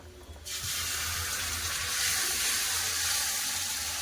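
Water runs steadily from a tap into a cooking pan of fried onion, tomato, ginger and garlic for a Bengali curry, starting after a brief quiet moment and continuing as a loud, close, even rush.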